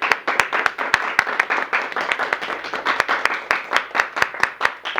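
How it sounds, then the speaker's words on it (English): A school audience applauds the first-place team, with sharp, distinct handclaps popping close and loud in a quick, uneven rhythm over a softer bed of general clapping. "Give them a huge round of applause for first."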